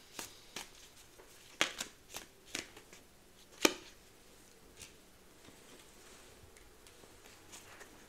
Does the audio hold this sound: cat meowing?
no